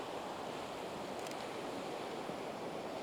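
Ocean waves on a beach wash in a steady, broad surf hiss, faint and continuous throughout with no distinct breaks, alone without talk.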